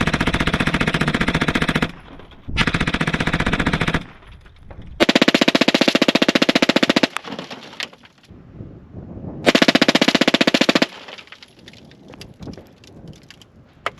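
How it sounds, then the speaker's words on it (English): Uzi 9mm submachine gun fires long full-auto bursts into a concrete block, several loud sustained strings of rapid shots separated by brief pauses and trailing echoes. "We're gonna shoot that concrete. I don't think the Uzi's gonna do very much on it"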